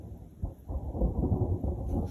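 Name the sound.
thunder in the mountains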